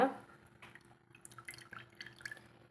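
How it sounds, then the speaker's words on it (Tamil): Squeezed pulp lets liquid fall in small, scattered drips, faint and close, with a few quick splashes spread over a couple of seconds and a quiet voice nearby. "நம்ம இறுக்கி அதில் இன்னும் இருக்கிறதா புழிஞ்சு எடுத்துக்கலாங்க"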